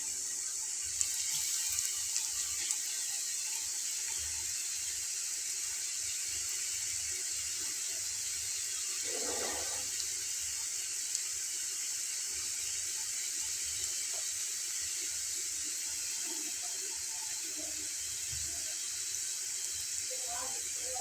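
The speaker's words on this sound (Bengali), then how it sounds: "এখন এর ভেতরে একটা একটা করে দিয়ে নেব। একসঙ্গে খুব বেশি দিব না, 2 থেকে 3টা স্টিক দিয়ে ভেজে নেব।" Potato sticks fry a few at a time in hot oil on a medium flame, a faint constant hiss of oil with occasional small crackles and a brief splashy burst partway through.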